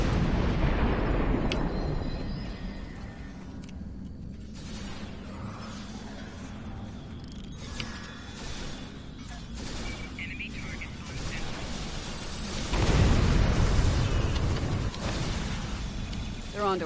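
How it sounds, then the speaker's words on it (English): Booming explosions in the Star Trek Online video game, a dense run of rumbling blasts that swells louder near the end, mixed under game dialogue. "More explosions."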